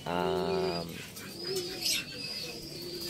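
Racing pigeons at a training release, close soft cooing calls with a rolling throaty coo, followed by fainter chirps and rustle, under faint background noise.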